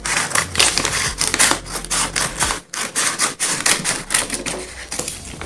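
Scissors cut through the plastic and paper packaging of a white and blue Ambrane 1200 W hair dryer, making rapid close crackling snips and crinkles with a brief pause midway.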